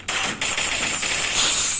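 Free Fire video game gunfire, a loud, dense rapid burst of automatic shots following a brief quiet start, without speech.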